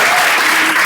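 A packed room at a women-in-law forum breaks into loud, continuous applause, dense clapping filling the whole short moment without a pause.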